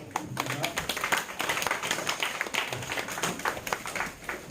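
A congregation claps during a Sunday worship service at a Korean church, an uneven patter of hand claps of moderate loudness running throughout, with faint voices mixed in.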